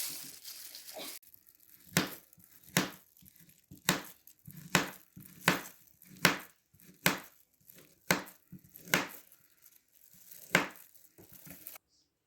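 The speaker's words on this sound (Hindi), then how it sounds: "अब मैं एप्पल काट लूँगी।" An apple is chopped on a board in about a dozen distinct knife strikes, spaced roughly a second apart. Each blow lands close and crisp against quiet pauses, with no talking.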